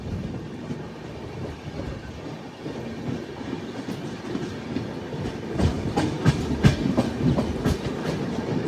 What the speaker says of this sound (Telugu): చూసారు కదా మన ట్రైన్ ఎంటర్ అవుతుంది